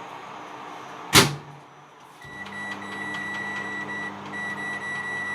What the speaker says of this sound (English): I'm popping this into the microwave